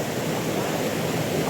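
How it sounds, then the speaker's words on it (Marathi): Kalu waterfall in Maharashtra sends up a steady, dense roar of falling water, close and continuous with no pauses or other sounds standing out. "चालू वॉटरफॉल"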